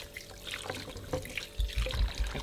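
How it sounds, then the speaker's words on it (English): Hands washed under a running kitchen tap while preparing fish, with a soft, steady trickle of water that grows louder near the end as the hands splash through the stream. "just wash my hands"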